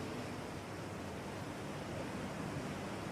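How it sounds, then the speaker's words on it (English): Steady, broadband wash of ocean waves rolls on without pause, a soft, continuous surf roar at low level with no distinct breaks and no voices. "If the waves are too loud, then I will shut them up"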